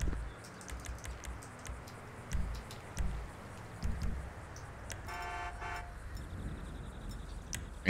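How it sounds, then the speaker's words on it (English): Car horn honks in a video game amid gunfire and action, a short tonal burst of honking around the middle, mid-distance over a busy, noisy game mix. "Really? You gonna honk at me?"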